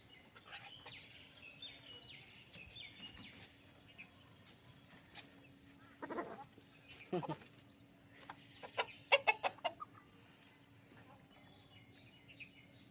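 Chickens and a rooster on a house rooftop give scattered, faint clucks and short calls amid quiet outdoor ambience, with occasional soft voices nearby.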